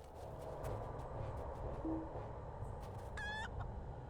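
Chickens cluck faintly in the Lord of the Rings Online video game during a Yule Festival quest, with short calls over a soft, steady ambient background.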